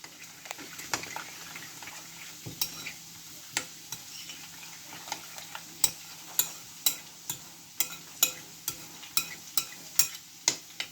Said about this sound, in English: So give that a good mix.